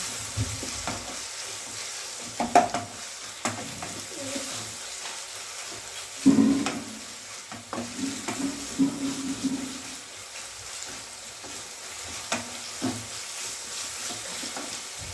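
Onions sauté in a pan until browned for a Tamil onion tamarind kuzhambu. A quiet, steady sizzle sits close, broken by intermittent spatula stirs and scrapes with a louder clatter midway.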